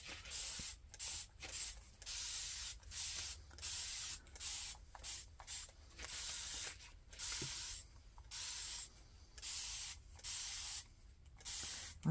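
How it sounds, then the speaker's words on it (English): Repeated bursts of hissing spray paint, each lasting about a second, come in a steady on-off rhythm close by, with no talking. "spray it a little bit more"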